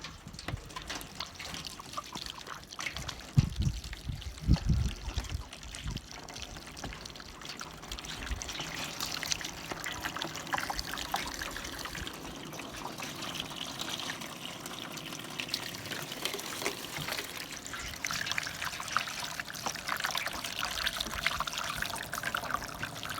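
Water runs steadily from a garden hose, a continuous mid-level hiss and trickle lasting throughout, with a few louder splashes and low thumps near the start.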